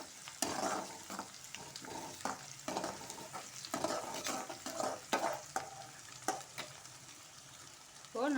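Chopped onions sautéing in a pan for a Tamil gongura (pulicha keerai) chutney, with a gentle sizzle under repeated scraping spatula strokes, close and steady.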